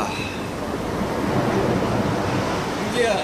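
Sea waves wash onto a seashore in a continuous roaring surf, swelling slightly toward the end, with wind buffeting the microphone and no clear talk.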